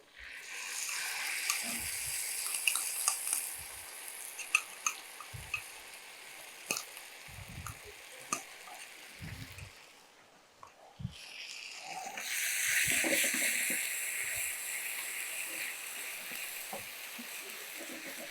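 Onion with ground paste sizzling as it is sautéed in a pan for a village-style onion bonda, a steady crackling fry with intermittent stirring scrapes and a brief lull midway before the sizzle swells again.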